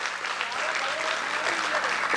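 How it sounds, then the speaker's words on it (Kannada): An audience gives a stage drama's artists a round of applause, with dense, sustained clapping filling the hall and a faint murmur beneath it. "ಈ ಎಲ್ಲ ಕಲಾವಿದರಿಗೆ ತಾವೊಮ್ಮೆ ದೊಡ್ಡ ಚಪ್ಪಾಳೆ ತಟ್ಟಿ ಹರಿಸಬೇಕು"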